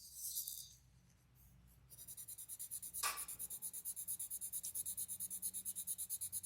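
Colored pencil rubbing across paper up close, a soft scratchy scribble settling into a fast, even back-and-forth stroking rhythm.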